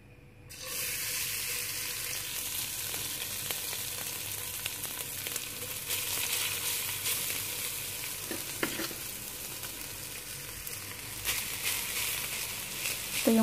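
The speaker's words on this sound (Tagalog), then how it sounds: "maglalagay na ako ng kanin. Nilagyan ko ng konting mantika." Cooked rice fries in a little oil for a meat biryani, giving a loud, continuous sizzle close by with occasional stirring scrapes and no voices.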